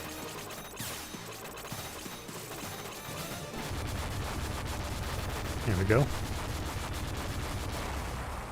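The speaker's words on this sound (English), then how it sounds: "I think this game has my favorite explosion sound. It's that huge crash bang kind of feel." Explosions and gunfire from the Super Contra video game make a steady run of retro shots and blasts, with a louder crashing burst near the middle, and someone speaks briefly over the game sound.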